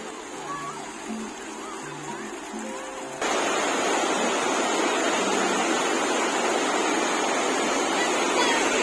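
Water from many fountains in a large park at Vrindavan, Mysuru, rushes and splashes in a steady broadband roar that grows louder partway through, with no talking.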